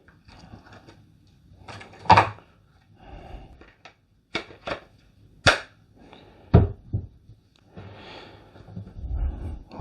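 Parkside PHPA 20-Li A1 cordless glue gun being handled as its X20V battery pack is attached: a close series of irregular plastic clicks, knocks and snaps, with quiet rustling between them.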